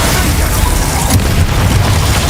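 A Glacius ice spell from Hogwarts Legacy lands as a dense, booming blast that stays loud and continuous, with heavy low rumble throughout the short burst.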